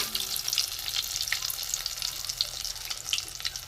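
Stuffed prawn kebab balls filled with raw prawn fry slowly in shallow oil, giving a steady, close crackling sizzle with scattered pops throughout and no talking.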